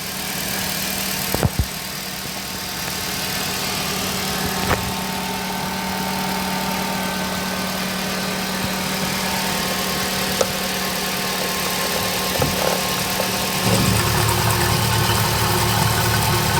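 A gasoline Pride car with manual transmission idles close by with a low, even drone and faint mechanical vibration, plus a few brief clicks and a slight shift in tone near the end.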